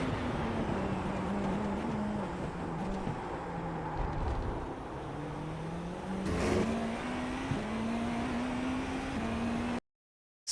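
A GTP prototype race car in the iRacing video game holds full speed through a lap section at Sebring, its engine droning loudly with steady pitch shifts as it brakes and accelerates through the corners, with no voices.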